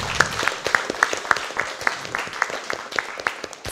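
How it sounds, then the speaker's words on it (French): Audience at a university computing department eloquence contest clapping for the other contestants; a small group giving sparse, distinct claps in a loose steady rhythm, close and fairly quiet. "Je pense qu'on peut quand même les applaudir."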